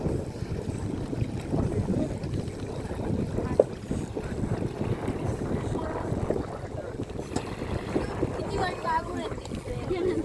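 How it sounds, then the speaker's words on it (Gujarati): A boat on the Narmada river near Kabirvad, its low engine rumble steady and moderately close, with wind buffeting the microphone and faint water splashes throughout. "સામેથી બોટ આવી રહી છે"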